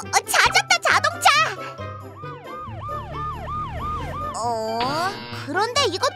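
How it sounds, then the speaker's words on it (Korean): An ambulance siren in a Pororo children's cartoon wails in repeated rising and falling sweeps over bouncy background music, loud and close, with cartoon voices around it. "구급차야!"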